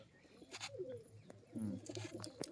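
Domestic high-flyer pigeons coo in short, soft bursts at close range, repeated several times against faint background noise.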